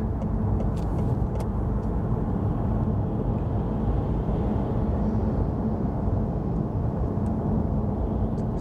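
A FedEx delivery truck passes along a road, its engine and tire noise a steady low rumble that holds throughout, with no one speaking.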